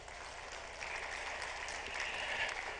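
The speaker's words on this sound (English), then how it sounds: "round of applause for that one, please." A crowd at a TECNO tech product launch claps for true wireless earbuds: a brief, even patter of applause that swells slightly midway and holds steady with no voices over it.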